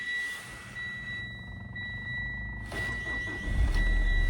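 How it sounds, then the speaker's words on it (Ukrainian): A 2012 Mitsubishi Outlander XL 4WD engine with manual transmission cranks and catches, then settles into a steady idle, heard up close. "Давайте заведемо друзі, автомобіль, покажу вам, як він заводиться гарно, як він працює."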